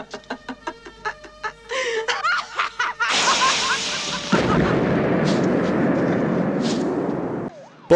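An exploding pen goes off in the 1983 film Never Say Never Again. A short run of clucking and laughing sounds leads into a loud blast, and a long roaring rumble follows and fades out.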